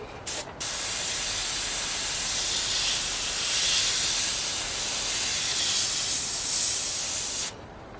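A steady, airy hiss of a cheap airbrush spraying a line for about seven seconds, preceded by a quick short burst, then cutting off abruptly.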